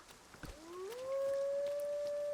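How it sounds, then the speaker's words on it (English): A lone wolf in Dragon's Dogma 2 lets out one rising howl that settles into a steady sustained tone, distant and faint against a rainy background hiss. "But there's wolves, so we should probably deal with those first."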